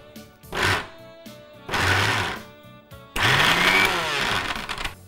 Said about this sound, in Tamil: இதை வந்து மிக்சியில் பண்ணுறப்போ விட்டு விட்டு இயக்கணும்.